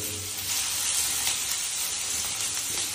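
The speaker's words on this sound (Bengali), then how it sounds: "আর হালকা একটুখানি নাড়িয়ে এটাকে ভেজে নাও।" Onions frying in hot oil and lightly stirred give a steady close sizzle, a bright hiss that holds through the clip with soft scraping touches of stirring and no voices.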